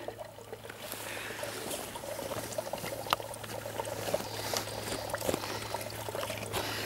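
Water pours steadily from an outdoor well in a continuous trickling splash with a low hum underneath, close and unbroken, with no voices.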